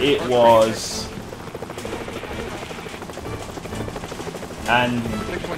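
The rotor and engine of a rescue helicopter in a simulator game make a steady rhythmic thudding drone. Someone talks over it from start to finish.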